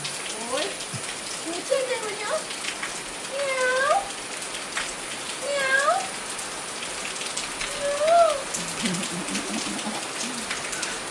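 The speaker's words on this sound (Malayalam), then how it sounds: "പിന്നെ ഇത് മഴയല്ലേ" Rain patters steadily in the background while a cat meows repeatedly in rising and falling calls, nearby and fairly clear.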